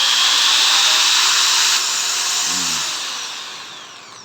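An INGCO impact drill runs in concrete mode, a loud steady whine held close, then easing slightly and fading toward the end, with no talk.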